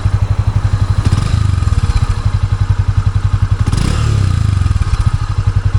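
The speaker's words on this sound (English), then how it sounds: "This is how the idle sounds." Close, loud idle of a Honda CB300F motorcycle on its stock exhaust, with a thumpy low exhaust pulse, briefly rising twice as if the throttle is blipped.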